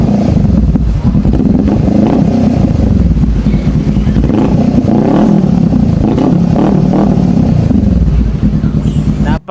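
Honda Rebel 500 motorcycle fitted with an Akrapovic R11 51mm universal muffler, its deep bassy exhaust running loud and steady throughout, with revving swells rising and falling close by.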